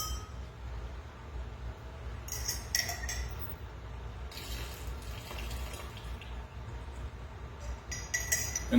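Loose dark tea leaves are rinsed in a glass jar, with faint running water and soft clinks of glass and a fork at intervals, gentle and close.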